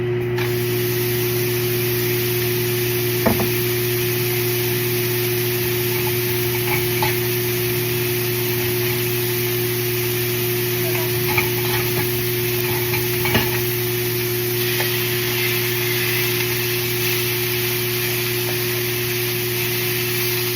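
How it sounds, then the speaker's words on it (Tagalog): Ground beef browning in a pan for a kalderita, a loud, steady hiss and crackle of sizzling that fills the whole stretch, over a constant low electrical hum, with a few faint scrapes of stirring. "First, let's brown the meat."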